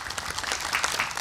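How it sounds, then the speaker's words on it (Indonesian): A studio audience claps for Ustadz Maulana on an Islamic television talk show, a brief burst of many hands, fairly soft and even, lasting just over a second with no speech. "Tepuk tangan buat Ustadz Maulana."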